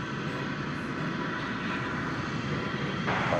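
A Martin Air plane's engines roar at DFW Airport, a steady broadband rumble and hiss that stays loud and continuous throughout, heard from outdoors at a distance.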